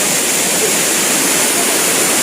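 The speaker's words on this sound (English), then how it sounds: "The intensity of the water is too much in this part of the place." Water rushes loudly and without a break at a waterfall beside a shrine in the Nandi Valley near Bangalore, a dense roaring wash that fills the whole moment up close, with no talk.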